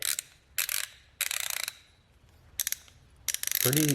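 Close ratchet clicking from a Snap-on FH936A ratchet wrench comes in several quick bursts separated by short pauses, with a brief voice at the end.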